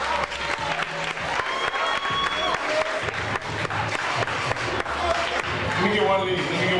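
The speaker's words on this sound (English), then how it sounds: "Y'all gotta clap or something," Sustained audience clapping at a live music show fills the room, loud and dense throughout with scattered crowd noise mixed in.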